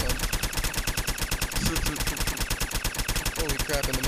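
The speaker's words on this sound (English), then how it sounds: "I do want to try an automatic deliverer pistol." Automatic Deliverer pistol firing in the Fallout 4 video game, a rapid, evenly spaced stream of sharp shots lasting several seconds, loud and close.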